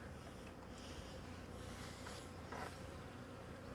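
Honey bees swarm around a beehive being removed from a rooftop, a steady, faint buzzing drone with several insects droning at once.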